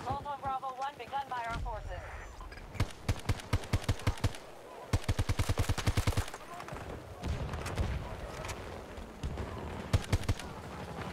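Rapid bursts of assault rifle fire in Battlefield 2042, several sustained automatic strings with short pauses between them, loud and close, with a player talking over parts of it.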